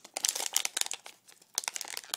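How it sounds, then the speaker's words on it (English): A small foil package is torn open up close: quick bursts of sharp, crinkly tearing and rustling in two main flurries separated by a short pause, faint overall with no voices. "They come in this little foil package."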